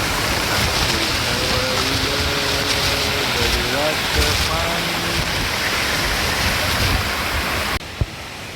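Heavy flow of Sawatsada waterfall in Chiplun, a steady loud roar of rushing water close by, broad and continuous, with faint voices and music tones mixed in, cutting off near the end.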